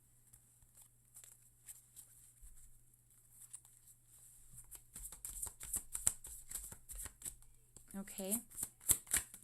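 Tarot cards being shuffled and handled at close range, with a soft, rapid riffling patter of card edges that builds in density and loudness toward the end, and a brief spoken word near the close.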